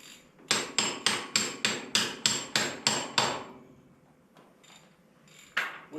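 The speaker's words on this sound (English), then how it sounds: "Big hammer." A big hammer strikes parts of a Ford 8N tractor engine during head removal, landing about ten loud, evenly spaced metallic blows in a quick rhythm, then a pause and a few softer knocks.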